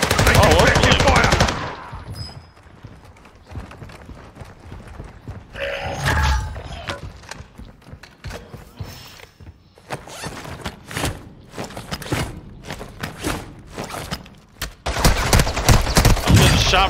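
Video game gunfire rattles out in rapid automatic bursts, loud at the start and again near the end, with a quieter, sparser stretch of shots and mechanical clatter between.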